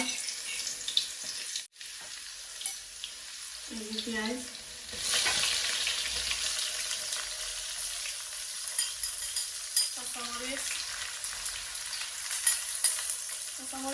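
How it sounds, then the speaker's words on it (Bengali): Tempering spices crackle and sizzle in hot oil in a home kitchen. The steady, close frying hiss carries on throughout, with a few brief faint tonal bits in the background. "আমি বাগারটা দিলাই তেল গরম হয়ে গেছে"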